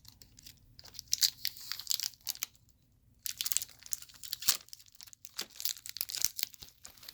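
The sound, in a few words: tape being pulled off a Dyson DC14 vacuum hose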